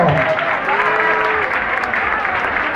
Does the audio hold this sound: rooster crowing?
no